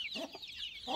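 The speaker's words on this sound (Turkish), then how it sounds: "Şunlar tavuk herhalde." Chickens cluck close by in a few short, quick bursts, fairly quiet and with no talking.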